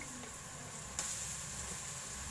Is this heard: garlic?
yes